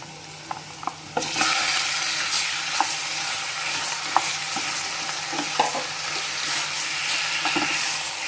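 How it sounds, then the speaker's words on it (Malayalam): Chicken pieces dropped into a pan of softened onions and stirred for a Mangaluru chicken pulimunchi, a loud sizzle that jumps up after the first second, with scraping stirs over it, close by. "ചിക്കൻ ഇട്ട് കൊടുത്ത് നന്നായി മിക്സ് ചെയ്യാം."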